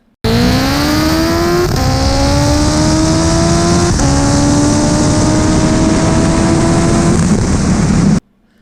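A 1300HP all-wheel-drive Honda Civic drag car with an H-pattern manual gearbox accelerating hard down a quarter-mile strip, engine pitch climbing through several quick gear changes, loud and sustained for about eight seconds before cutting off.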